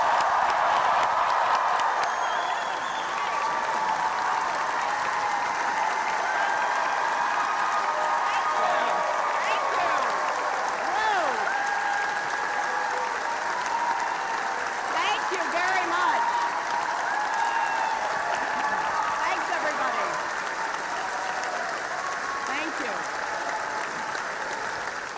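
A large indoor audience at Yale gives sustained, steady applause to welcome Hillary Clinton, a dense, even roar of clapping that carries on without a break.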